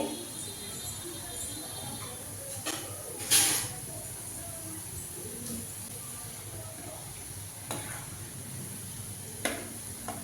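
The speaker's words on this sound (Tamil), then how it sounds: "இப்போ அது நல்லா பொரிஞ்சிச்சு" Boondi for laddu frying in hot oil gives a soft, steady sizzle with a faint stirring clatter now and then, heard close and fairly quiet while a voice talks over it.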